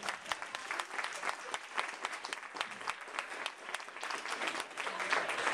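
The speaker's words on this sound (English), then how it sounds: "Let's give these girls a round of applause." Audience applause for varsity girls' basketball players, a roomful of hands clapping steadily with distinct sharp claps near the microphone, fairly quiet and swelling slightly toward the end, with faint crowd murmur beneath.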